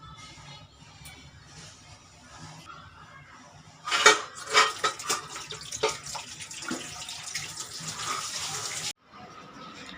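Tap water running at a household sink while dishes are washed, faint at first, then a louder gushing splash with clattering for several seconds before it cuts off.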